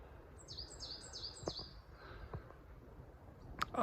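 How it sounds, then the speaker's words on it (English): A song thrush repeats a short, high whistled phrase several times in quick succession, fairly faint, followed by a few scattered clicks and chirps. "I think that's a song thrush."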